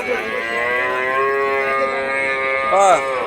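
Cattle at a Joypurhat livestock market moo in a long, loud, harmonic call lasting nearly three seconds, with a second rising bellow at the end over a steady crowd murmur.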